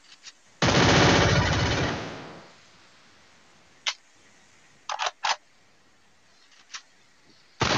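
A long loud burst of automatic gunfire from the video game Free Fire Max, about two seconds, followed by several short sharp single shots and clicks spaced apart.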